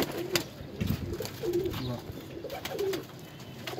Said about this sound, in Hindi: ये हमारी खातिर उन्होंने कबूतर पकड़े हुए हैं और अपने कबूतरों का शौक भी करवा रहे हैं।